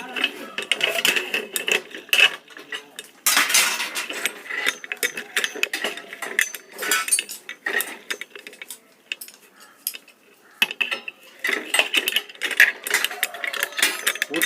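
A bicycle being dismantled, with a screw worked loose by a tool: irregular metallic clicks, ratcheting and clanks of parts close by, coming in busy bursts with short pauses and no voices.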